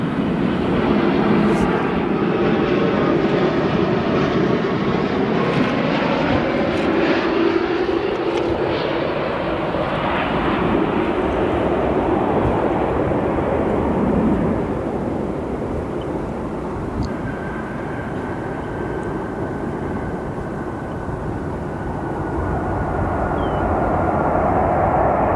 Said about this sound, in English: This arrival, your 787 Dreamliner from Barcelona